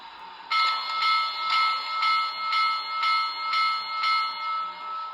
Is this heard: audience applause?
no